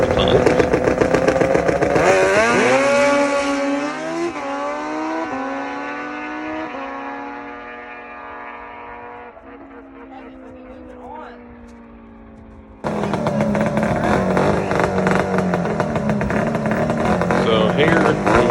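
A drag race car makes a quarter-mile pass after losing a little traction, its engine roaring loud and rising through gear changes before fading into the distance, followed by a sudden burst of loud crowd and track noise.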